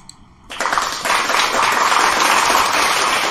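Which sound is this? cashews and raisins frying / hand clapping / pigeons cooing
hand clapping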